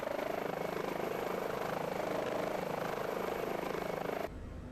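Engines of an H145 helicopter in a flight simulator game keep running at idle with a steady whine and rhythmic rotor thump, loud and continuous, then abruptly drop to a lower, quieter hum near the end.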